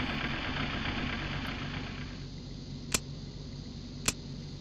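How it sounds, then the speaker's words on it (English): A steady low engine drone from an aircraft pushback truck in a flight simulator, idling evenly throughout with two sharp clicks standing out near the end. "That's our lovely pushback truck"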